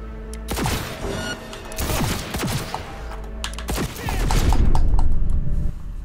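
Rapid bursts of gunfire ring out in a Cyberpunk 2077 street shootout, loud sharp shots in clustered volleys building into heavier sustained firing near the end, with no clear talk over them.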